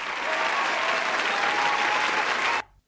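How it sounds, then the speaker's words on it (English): A crowd's dense, steady applause fills the room, loud and even throughout, then cuts off abruptly near the end. "Give him a round of applause."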